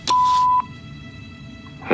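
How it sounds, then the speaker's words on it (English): Home answering machine beep: one clear, steady electronic tone lasting about half a second, followed by quiet line hiss and a brief voice at the very end. "Leave a message after the beep."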